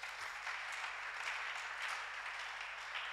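A church congregation applauds, a steady, soft wash of many hands clapping that continues at an even level throughout, with no talking.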